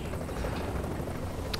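Helicopter rotor drone in Tom Clancy's The Division, a steady loud broadband whir filling the whole stretch with no pauses.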